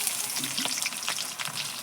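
Onions fry in hot oil for a meat dish, a loud, continuous crackling sizzle heard up close with no pause.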